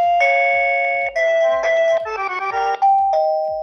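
A battery-powered WiFi smart doorbell plays a series of bright electronic chime tones, loud and close, switching between several melodies in quick succession.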